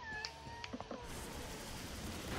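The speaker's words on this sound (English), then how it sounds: "Are you just gonna come over here, meow at me, and leave?" Cat Pokémon in the video game Pokémon Shield giving a short series of soft, high meows, several brief cries close together in the first second before a faint steady background.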